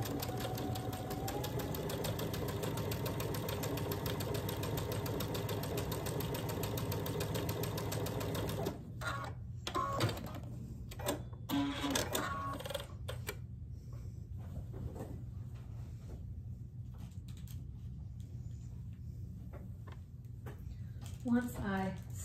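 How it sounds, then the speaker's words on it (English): A sewing machine stitches a quarter-inch seam on a quilt piece, running steadily and close for several seconds before stopping, followed by quieter handling clatter and a voice talking. "stitch down this line right here"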